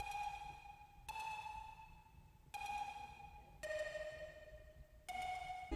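A bright, bell-like synth lead plays sustained notes in a slow sequence, each tone ringing out with long, spacious reverb tails.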